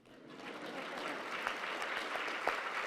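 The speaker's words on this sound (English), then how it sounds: "you can clap, that's fine." An audience at a university lecture breaks into applause, a steady wash of clapping hands that swells in quickly and holds at an even level throughout.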